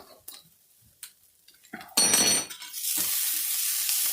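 Onions frying in a pan for a hamburger potato cheese casserole: a few quiet clinks and stirring taps, then a sudden loud burst of sizzle that settles into a steady, bright hiss.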